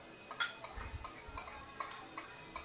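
Garlic being stirred in melted Star margarine in a pan for Filipino pares, soft scraping strokes repeating at a steady rhythm over a faint low sizzle, close and fairly quiet, with no talking.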